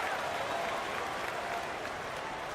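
Basketball arena crowd in the NBA 2K16 video game, a steady roar of clapping and cheering that holds at an even level without a break.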